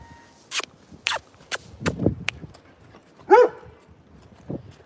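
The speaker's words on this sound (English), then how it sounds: "I don't want to get the dogs barking." Dogs bark near a backyard bird feeder, a few short sharp barks spaced irregularly over several seconds, moderately loud and close, with no talking.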